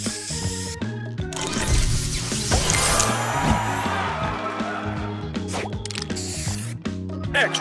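Spray booster effect in the Match Masters mobile game, a loud hissing spray burst over a busy mix of mechanical clicks, ratcheting ticks and short tonal game jingles.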